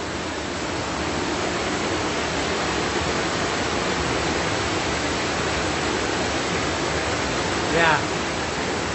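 A waterfall on a hiking trail in Ocuilan de Arteaga, Mexico, gives a loud, steady, broadband rush throughout, with a brief faint voice-like sound near the end.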